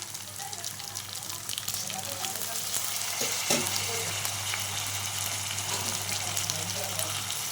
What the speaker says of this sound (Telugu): ఇప్పుడు దీంట్లోకి టమాటాలు వేసేస్తాను.